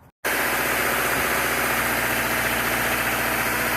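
A Subaru car engine catches after a brief moment of near silence and settles into a loud, steady idle with a constant low rumble, close by.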